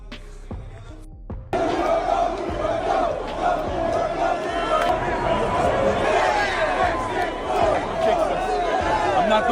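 A large crowd of New York Knicks fans erupts into loud, sustained cheering and shouting after a brief quieter moment, with chatter and voices mixed throughout the roar.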